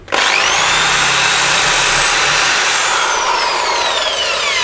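A wire wheel spins in a drill against a metal measuring implement clamped to a bench, a loud, harsh, continuous whirring grind, close by and steady from start to finish.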